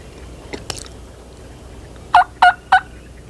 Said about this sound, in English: So Bob gives a call to try to get them to gobble.